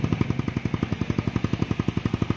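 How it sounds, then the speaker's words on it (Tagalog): Honda Raider 150 Fi motorcycle with a Kalkal pipe exhaust idling, a loud, close, rapid and even popping putter with no voices. "Ayan yung tunog ng pipe natin mga kagaston."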